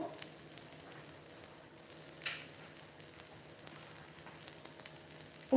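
Fenugreek leaf pudla, a savoury gram-flour pancake, frying in oil on a pan, giving a steady, soft close sizzle throughout with a brief brighter crackle near the middle.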